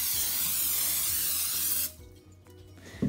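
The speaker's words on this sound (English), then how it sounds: "Now I have a cookie sheet that I'm gonna spray with some cooking oil." Cooking oil sprays onto a cookie sheet in one continuous hissing burst of almost two seconds, close and loud, then stops, leaving faint kitchen sounds.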